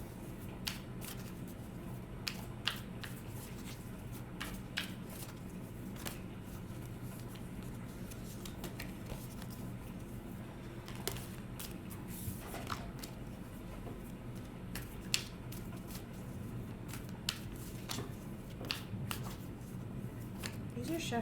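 A 78-card tarot deck being shuffled smoothly, a long run of soft riffling and card flicks that repeat steadily up close, with no talk over it.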